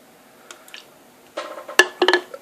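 Hamm's lager beer poured into a glass, a quiet start building into a loud, bubbly splashing and fizzing pour near the microphone.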